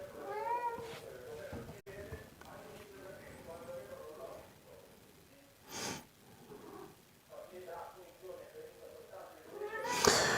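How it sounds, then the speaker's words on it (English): A cat meows several times, drawn-out wavering cries spaced apart with breathy snorts and soft noises between them and a sharp, louder yowl at the end. "the cat."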